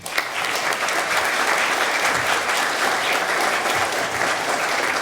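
Loud, dense applause fills a hall at a spring concert of the Kadrina art school, an even wall of clapping from a large audience sustained throughout.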